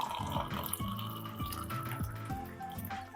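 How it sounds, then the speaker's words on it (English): Hot water poured from a kettle into a cup for a honey and lemon flu remedy, a steady close pour with a rising, filling tone and faint clinks, heard alone. "Get your spoon and then get your hot water, right? Then pour it in"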